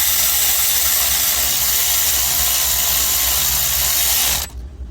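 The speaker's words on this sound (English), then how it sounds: "Now we're gonna put the bolt in." Power tool driving in the bolt that secures an AC compressor on a 2019-or-later Chevy Silverado: a steady, loud whirring run lasting several seconds, cutting off abruptly near the end, with no talk.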